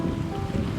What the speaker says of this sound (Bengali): সামনে দেখতে পাচ্ছেন